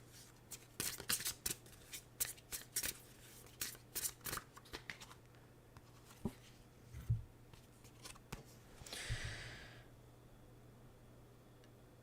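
Karma cards are shuffled close by during a reading, giving quick bursts of papery riffling and slapping, then a short soft whoosh near the end. The sound is quiet and no one speaks.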